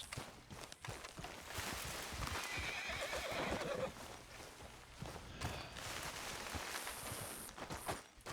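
A horse in Red Dead Redemption 2 whinnies loudly while its hooves clip-clop steadily along, the neighing rising over continuous trotting footfalls, with no talk.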